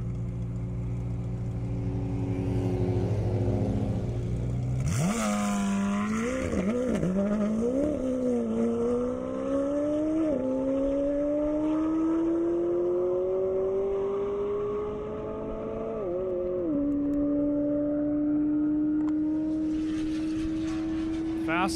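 Race cars, including an Audi S6 making around 900 horsepower, accelerate hard down an airstrip in a loud, sustained engine roar, with pitch sweeps and gear shifts and brief tire squeal. A commentator's voice is also present.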